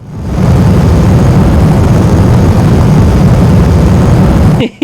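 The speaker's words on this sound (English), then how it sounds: "Engage the new boosters." JATO rocket boosters firing on an aircraft during climb-out in SimpleRockets2, a loud, steady roaring rush that holds unbroken for several seconds, then cuts off abruptly at the end.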